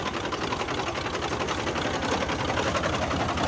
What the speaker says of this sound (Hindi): ट्रैक्टर स्टार्ट करके खड़े आ